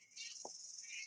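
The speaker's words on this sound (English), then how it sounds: "If you can hear the noise in the background, that's the cicadas chirping away." Cicadas buzzing in an outdoor setting, a steady high, thin drone held throughout at moderate distance, with a couple of brief soft knocks nearby.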